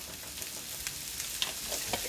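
Butter sizzling with chopped shallots in a hot pan, a steady soft crackle with scattered brief pops, close and fairly quiet, with no talk over it.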